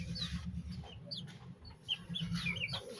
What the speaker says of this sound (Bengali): আর এই যে আমার মুরগিগুলো